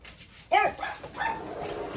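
Dogs in a home kitchen let out a sudden sharp yelp followed by a wavering whine, close and fairly loud, then fade into softer whimpering over a low background hum.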